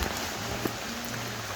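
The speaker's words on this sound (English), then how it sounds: "It's raining pretty heavy now." Heavy rain falls in Samoa, a steady, even hiss of drops that holds unchanged for under two seconds at a low level, with no voices.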